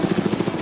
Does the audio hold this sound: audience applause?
no